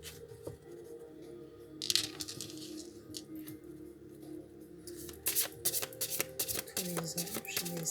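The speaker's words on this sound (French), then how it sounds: "je vais tirer une carte de l'oracle de la libération énergétique." Oracle cards being shuffled and drawn, with soft repeated riffling and sliding card sounds that thicken into a quick burst of flicks near the end, while someone speaks quietly over them.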